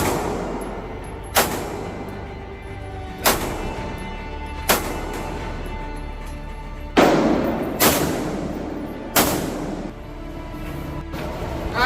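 Gunshots ring out at a shooting range, about seven loud, sharp reports spaced one to two seconds apart, each with a brief echoing tail, and no talking.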